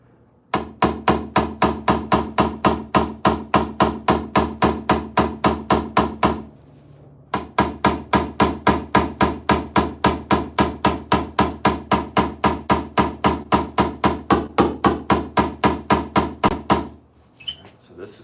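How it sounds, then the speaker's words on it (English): A paintless dent repair blending hammer taps hail-damaged car body metal in a fast, steady series of sharp, ringing metallic strikes, loud and close, with one brief pause partway through and no speech. "This is called your blending hammer."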